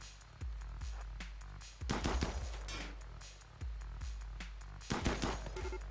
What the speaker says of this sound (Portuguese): Onde veio esse tiro?